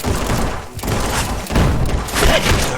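Bomb blasts in Red Dead Redemption 2 played in VR: heavy, broadband thuds and booms rumble close and loud, with stronger bursts landing near the middle and end amid a continuous roar of chaotic action.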